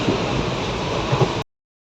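Steady rumbling interior noise of a moving passenger train, a dense broadband roar with a couple of low thumps near the end, heard alone without talk before cutting off abruptly.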